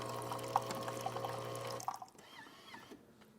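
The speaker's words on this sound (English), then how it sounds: "Good water flow" Water streams from a Jura Impressa J9 coffee machine after a full service and tune-up. A steady, moderate hiss of flow with a few drips runs for about two seconds, then cuts off and leaves a faint trickle.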